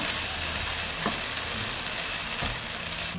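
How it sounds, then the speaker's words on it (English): Ingredients for Keralan tofu moilee frying in a pan, a loud steady sizzle with a couple of scraping stirs of a utensil. "You'll just want to let that fry for a couple of minutes, making sure that none of it burns, so mix it around every now and then"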